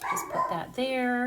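A pet dog gives a quick bark and a drawn-out whining yelp indoors, brief and fairly close, right after someone speaks.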